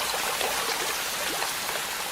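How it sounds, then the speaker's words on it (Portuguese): Steady, dense rain hisses through the Amazon rainforest, a constant wash of water with no pauses and no voices. "As chuvas transformam a floresta amazônica e muitos de seus rios."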